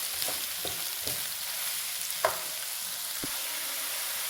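Two finely chopped carrots fry in a pan for egg fried rice, giving a steady sizzle broken by a few soft stirring scrapes and one sharper clack partway through.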